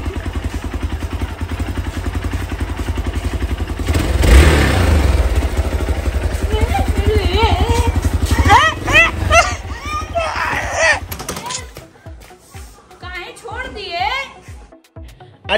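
A new motorcycle's engine idles with a steady low rumble after being started, while several people talk loudly over it and a dog may bark briefly.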